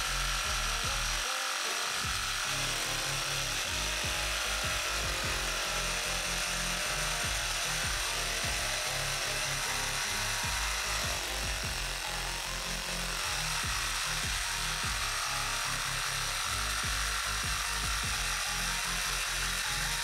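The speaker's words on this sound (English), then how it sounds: "rather than do 4 separate cuts, I'm going to see if I can cut all 4 at the same time" A power saw cuts through four clamped wooden wing pieces for a duck whirligig at once, a loud, steady buzzing whine running the full length with a brief dip near the start and no talking.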